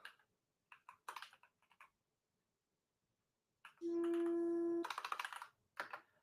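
Bursts of computer keyboard typing, quick clicking keystrokes in short clusters separated by pauses, faint and close, with a brief steady tone in the middle.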